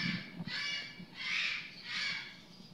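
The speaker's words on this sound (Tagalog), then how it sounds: "medyo malakas po talaga yung boses ng ibon dito" A bird calls loudly nearby, four drawn-out, harsh crow-like caws in a slow sequence, heard alone against a quiet background.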